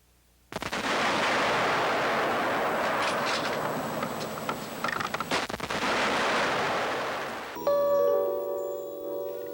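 A .270 caliber rifle shot at a whitetail buck hits with a sudden loud crack, followed by a long rumbling roar and steady noise with no talking, then a quieter tonal tail.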